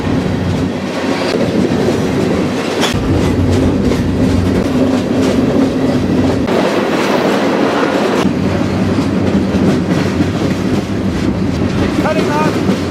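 A freight train rumbles along the tracks close by on the main line near Atlanta, a loud continuous roar with rhythmic clacking of wheels over rail joints.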